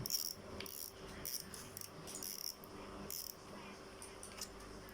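A faint, fast mechanical clicking from a fishing reel's spring-loaded metal clicker, light metallic ticks rattling in short bursts, with no voices.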